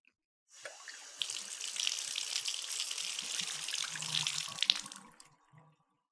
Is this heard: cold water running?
yes